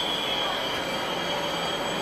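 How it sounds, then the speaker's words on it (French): A Trenitalia train arrives at a station platform with a loud, continuous high-pitched wheel squeal over a steady rolling roar. "Voici le train que je vais prendre."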